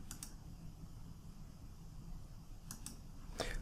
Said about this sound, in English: I'm just going to hit 1 on my keyboard to go out of that